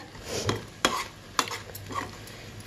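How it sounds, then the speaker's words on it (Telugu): Pumpkin halwa cooking in ghee, stirred with a spoon in a pan: a soft sizzle broken by several sharp scraping clinks of the spoon against the metal, close up, with no voices. "వేసుకొని మరలా కలుపుకుంటే 2 నిమిషాల సేపు కాస్త మగ్గిద్ది."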